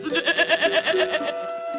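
A goat gives one rapid, wavering bleat made of quick pulsing bursts that fades off at the end, close and clear with no voices.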